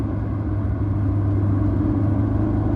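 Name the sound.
loud car with an exhaust leak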